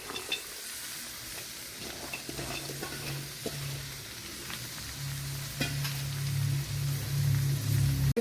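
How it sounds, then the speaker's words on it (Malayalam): Okra frying in a pan gives a soft, continuous sizzle, broken by scattered light clicks and scrapes of stirring, with a low hum that swells near the end. "ഇതിലേക്ക് ഇനി നമ്മുടെ വെണ്ടയ്ക്ക ചേർത്ത് കൊടുക്കാം"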